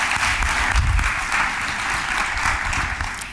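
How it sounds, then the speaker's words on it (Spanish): A crowd applauds at a talk event, thick continuous clapping at close range that holds evenly for a few seconds, with no speech over it. "un fuerte aplauso para ellos dos también"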